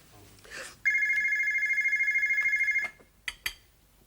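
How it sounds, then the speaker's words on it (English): A telephone bell rings in one long, steady trill of about two seconds in a domestic room, with brief rustles and knocks before and after. "Are you going to answer that phone or what?"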